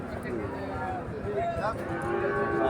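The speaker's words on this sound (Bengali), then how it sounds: "এখানে একটা দেশি গরু দেখাচ্ছি আমি ফুল বডিতে দেখাচ্ছি" A native cow mooing at a busy rural cattle market, low drawn-out lows rising over a crowd murmur and nearby talking, close to the animal.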